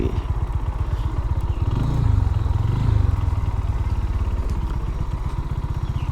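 A GPX Demon motorcycle idles close by, its engine thumping in a steady rapid pulse, with a brief rise in revs in the middle before it settles back to idle.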